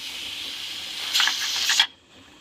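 Steam hisses steadily from the vent of a pressure canner full of squash, a constant airy rush that grows louder and rougher for a moment and then drops off sharply to a faint hiss.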